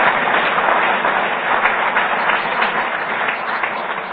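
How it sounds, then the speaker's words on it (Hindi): A crowd claps steadily and loudly at a Delhi public gathering, a continuous dense roar of applause with slight swells and no clear break. "भाई ताली बजानी तो जोर से बजाओ"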